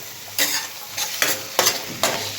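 A spoon stirs pav bhaji in a hot pan with four distinct scraping sweeps over a soft background sizzle, close and clear with no voices.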